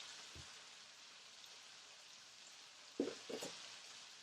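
A pork chop searing in a hot skillet over medium-high heat gives a steady, soft sizzle and crackle that runs throughout, with a few brief clinks or bumps near the end.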